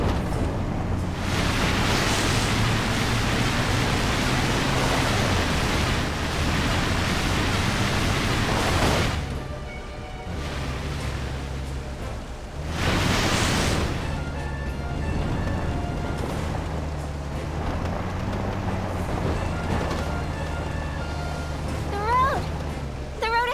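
A vehicle in the video game Disaster: Day of Crisis drives through a river, giving a loud, continuous rush of splashing water over a low engine drone, with two sharper surges of spray partway through.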